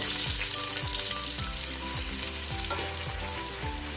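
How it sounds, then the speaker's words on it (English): Onions fry in hot oil with garam masala, giving a loud, close, steady sizzle with rhythmic stirring scrapes about every half second and no speech. "So once the garam masala is hot enough and it is fried in the oil,"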